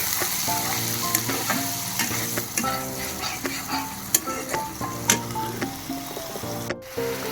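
Onion paste frying in a pan for a Bengali rui fish dhoka dish, a steady sizzle with repeated stirring clinks and scrapes, close and fairly loud throughout.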